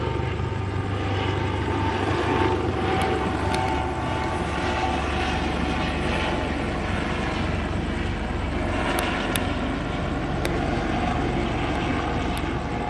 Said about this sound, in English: I'm not going to talk over this helicopter